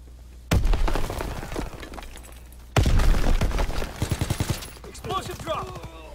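Explosions and gunfire in a World War II video game: two sharp, loud blasts each followed by rattling bursts of shots and debris, with a brief voice near the end.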